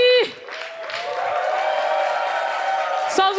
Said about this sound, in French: Qu'on fasse un tonnerre d'applaudissements pour Dorty